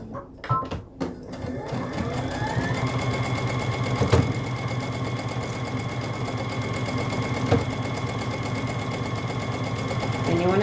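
Sewing machine stitching a seam along the edge of felt pieces for a Halloween treat bag, a steady, continuous whirring hum with a few short starts and taps at the beginning, close and fairly loud throughout.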